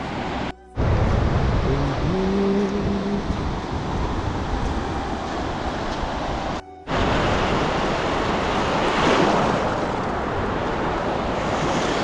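Steady rushing surf fills the scene, a continuous wash of breaking waves with wind noise buffeting the microphone.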